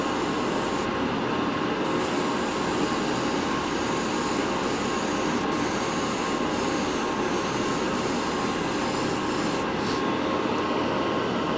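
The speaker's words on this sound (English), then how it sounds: "Okay, let's spray the bottom side first." Continuous, loud hiss of a spray can laying down primer paint on a part, steady and close for the whole stretch with no voices.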